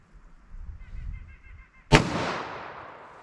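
A .357 Magnum round with a 180 grain bullet is fired through a chronograph outdoors: a single sharp, loud report that rings out in a decaying echo, preceded by quiet handling noise.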